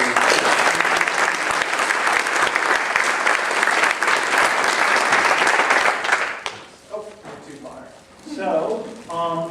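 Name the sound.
audience applause at GiveCamp opening ceremony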